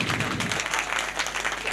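Audience applause after a stage performance, a brief burst of many hands clapping at moderate volume, fairly even and unbroken across the moment.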